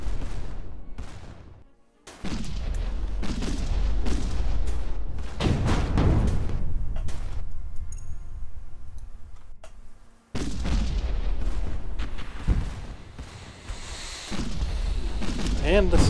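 Artillery booms and explosions pound through a Stardrive 2 space battle, heavy blasts in repeated bursts with brief lulls, while a commentator talks over the fighting.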